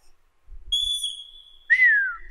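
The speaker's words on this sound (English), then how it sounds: "Can you give me another whistle?" Two whistle blasts on a sports field: a long, steady high tone followed by a shorter, louder note that slides downward, both clear and fairly close, with faint low thumps beneath and no talking.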